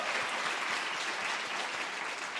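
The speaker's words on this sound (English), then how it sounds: "Let me hear y'all clap for them" A room full of people at a youth community event claps continuously for the young speakers, making an even, moderately distant wash of applause with no pauses and no speech over it.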